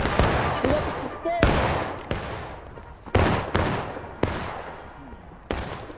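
Repeated musket and cannon gunfire in a War of Rights Civil War battle, sharp cracks every second or so ringing out over a noisy battlefield, with shouted voices in the background.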